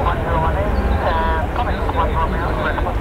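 A KLM airliner flies at Manchester Airport, heard as a continuous loud jet roar with people talking over it.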